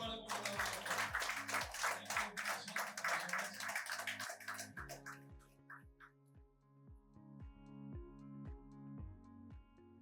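Loud applause fills a certificate distribution ceremony for about five seconds, with a steady beat of music under it. The clapping then fades and the music carries on alone.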